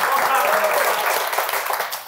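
Audience applause at a stand-up comedy show, a loud continuous wash of many hands clapping that thins slightly toward the end.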